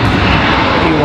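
An Air Canada Embraer E175 airliner arriving at Raleigh Durham airport gives a dense, steady engine roar, loud and close, lasting only about a second with no break.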